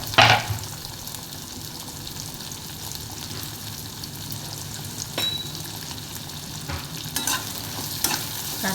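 Garlic, green chilies and sliced onions frying in oil in a home kitchen, a steady low sizzle running throughout with a few scrapes and clinks of a stirring spoon against the pan.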